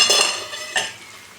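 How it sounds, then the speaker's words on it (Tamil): Brief close scraping and clinking of a spatula stir-frying bitter gourd with onion, tomato and curry leaves in a pan, with a light sizzle fading out. "எல்லாம் வதக்கி வெந்துட்டு இருக்கு."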